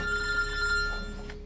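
A telephone rings with a steady electronic bell tone through about a second and a half, fairly close and clear over a low background hum.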